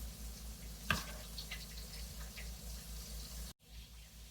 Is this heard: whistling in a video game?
no